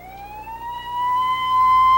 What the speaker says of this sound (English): Ambulance sirens announce the casualties.